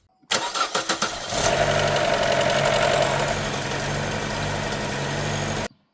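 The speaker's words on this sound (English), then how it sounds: "And now we'll test our battery and make sure the engine starts." A Chevy Cruze engine cranks with a quick series of starter pulses after a battery replacement, then catches and settles into a steady, close idle that runs until the end.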